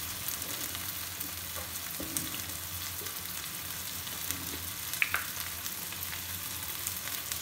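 Onion, tomato sauce and garlic for a pizza sauce fry in a pan with a soft, even sizzle, broken by occasional faint stirring scrapes and a light clink, fairly quiet and close with no voices.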